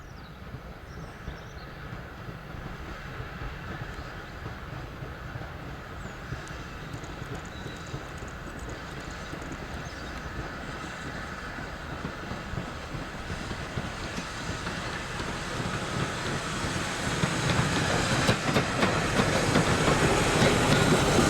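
Bluebell Railway locomotive No. 65 heading a passenger train, a continuous rumbling chuff and rhythmic rail clatter that builds steadily louder as it approaches, with no voices.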